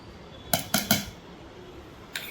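A metal spoon strikes the rim of a bowl three times in quick succession, adding gram flour for homemade village-style tomato pickle, with a lone fourth clink after a pause and no voices.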